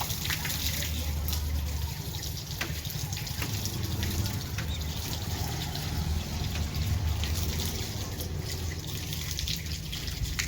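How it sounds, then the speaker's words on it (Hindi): Water runs over the right foot during wudu, a steady close trickle and splash from a tap continuing without pause. "अब इसके बाद जो है पाँव धोना, दायां पाँव 3 मरतबा।"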